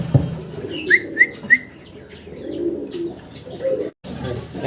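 Pigeons kept for sale coo softly up close, with a few brighter chirping calls early on and a low, murmuring coo running underneath throughout.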